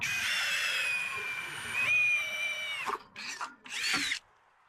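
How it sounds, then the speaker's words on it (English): Cordless hand drill with a brushless motor boring a quarter-inch hole through wood: a steady high whine that dips in pitch as it bites, then two short bursts of spinning before stopping, close and loud. "I try to drill through."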